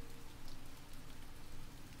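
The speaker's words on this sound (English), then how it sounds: "I grimaced as warm droplets of rain threw themselves into my eyes." Steady rainfall from the visual novel game Princess Evangile, a dense, even wash of drops with no distinct strikes, continuous and fairly faint with no voices.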